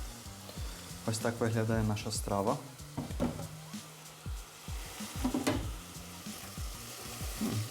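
Vegetables stew in a pot for Hutsul-style bograch, giving a soft continuous sizzle with occasional stirring clinks while someone talks over it throughout.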